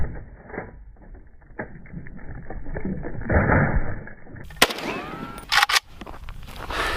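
An AKM rifle fires 7.62x39 rounds into concrete: a muffled, scuffling stretch of handling noise gives way to a sharp loud crack, followed by a few more bright bursts and ringing debris, with no talk.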